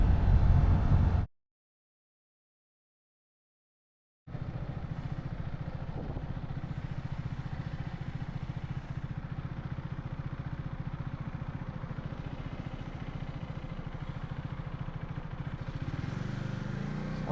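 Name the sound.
motorcycle riding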